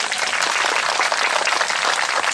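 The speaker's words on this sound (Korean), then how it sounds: "큰 박수 한번 주시기 바랍니다." Dense, sustained applause from an audience at a lecture hall talk, steady and loud throughout with no pause.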